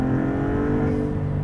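A Maserati MC20 with its V6 engine revving hard, a steady loud droning roar with strong harmonic tones that stays close and continuous throughout the short stretch.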